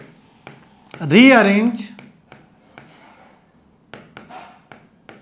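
Marker or chalk strokes on a board during a class 11 maths lesson, a string of short scratchy taps and squeaks between a teacher's spoken words.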